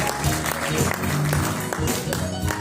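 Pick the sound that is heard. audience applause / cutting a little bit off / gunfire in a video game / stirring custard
audience applause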